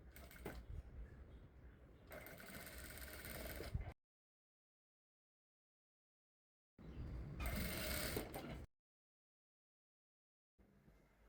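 A sewing machine stitches a panel dress seam in two bursts of steady mechanical whirring, each a couple of seconds long and separated by silence, with a third burst just starting at the end.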